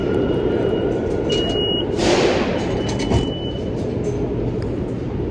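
A local train rumbles steadily through a busy station, with a brief louder whoosh and a faint high squeal of wheels as it arrives.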